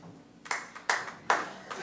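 Scattered, sparse clapping from a small comedy club audience, three or four distinct claps heard at moderate distance with no talking over them.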